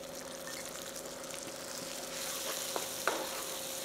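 Mutton coconut masala sizzles steadily in a pan as a spoonful of curd is stirred in, a constant frying hiss with a few soft scrapes and clinks near the end, no talking.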